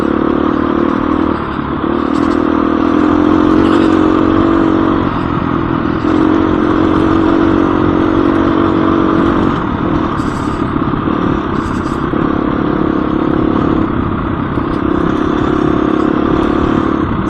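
A Husqvarna 350 dirt bike engine runs loud and close for the whole stretch. Its steady, raspy drone rises and dips slightly with the throttle, over mechanical clatter.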